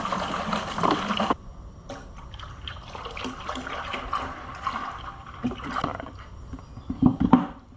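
Liquid sloshes and trickles in a bucket as a 50-50 coolant mix for a 2020 Ram 1500 is stirred, with faint intermittent splashes and clinks close by.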